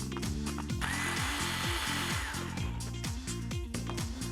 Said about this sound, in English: I'm using only all the liquids and the garlic inside the mixer